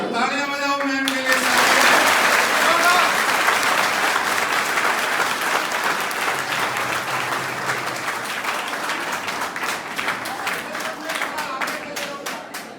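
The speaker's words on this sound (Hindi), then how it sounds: "तो तालियां बजाओ मैम के लिए।" Sustained audience applause at a road safety month event in India, loud and dense from the start and thinning slightly toward the end, with a voice speaking briefly at the opening.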